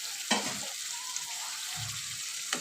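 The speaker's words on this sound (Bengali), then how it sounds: "এখন ভালো করে একটু নেড়ে চেড়ে" Potatoes and tomato fry in a pan under a constant sizzle, with a few clanks and scrapes from a utensil stirring them and no speech.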